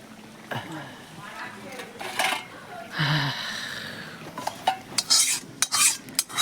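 Meat curry being stirred in a pan, a spoon scraping and clinking against the metal in irregular strokes, with bursts of louder scraping toward the end and some talk in the background.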